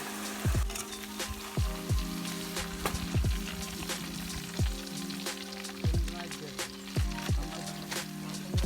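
Jackfruit chips sizzle while deep-frying in hot oil, a steady close crackle broken by repeated clinks of a stirring ladle, with a voice speaking over it.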